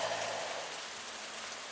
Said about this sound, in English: Freezing rain.